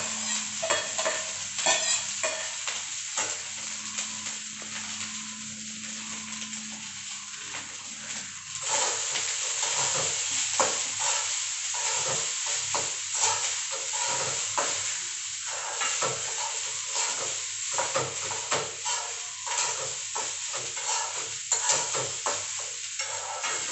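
Leftover cooked rice is stirred and fried in a pan for a home breakfast, giving a steady close sizzle with repeated scraping strokes of the spatula and no talking.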